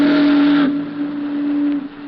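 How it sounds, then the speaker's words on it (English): A loud, sustained steamboat whistle from a stern-wheeler blows with a hissy, breathy upper edge that drops away partway through, the low tone holding before fading. "The big boat's doleful whistle and the rhythmic churning of her huge stern wheel were the only audible sounds."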